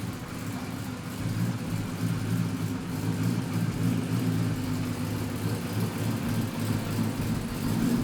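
A car engine rumbles steadily at low speed, close by and fairly loud, a continuous idling drone with slight rises as it creeps forward.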